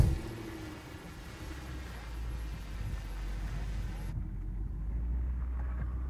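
A 2013 Range Rover in low range grinds up a steep off-road obstacle, a steady low engine drone running under wind buffeting throughout, with no clear speech.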